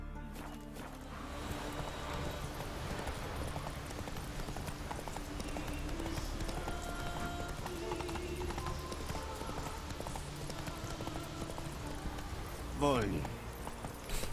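Horse hooves clip-clop in The Witcher video game, a steady rhythmic trot heard throughout against game music and ambience, with a brief whoosh near the end.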